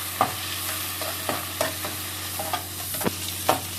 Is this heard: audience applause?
no